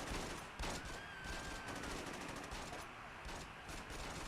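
Bursts of gunfire during a drive-by shooting in Saints Row 2, with repeated rapid shots rattling over a dense game soundscape at moderate loudness.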